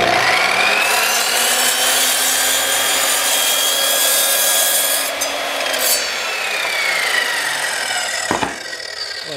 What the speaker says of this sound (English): slices through that 2x8 like butter